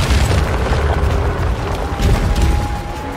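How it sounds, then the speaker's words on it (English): Shocking turrets in the Path of Exile 2 endgame trial fire lightning projectiles, a steady dense roar of crackling booms and rumbling impacts that swell around the two-second mark, loud and continuous. "dealing with the lightning projectiles from the shocking turrets"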